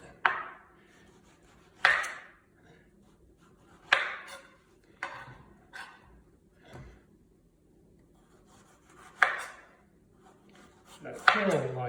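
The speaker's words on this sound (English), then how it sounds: "just run the knife down the skin" A knife running down the firm, hard skin of a raw plantain, giving a series of separate scraping strokes with short pauses between them, close and moderately loud, with no talking.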